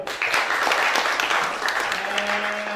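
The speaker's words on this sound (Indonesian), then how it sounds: "Boleh tepuk tangan dulu." Audience at a youth business leadership seminar breaks into applause, a brief burst of dense clapping with a faint steady tone emerging near the end.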